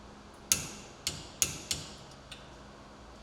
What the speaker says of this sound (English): Continue by torquing the fasteners to specification.